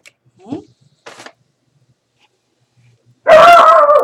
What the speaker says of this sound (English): Figa. That's my dog.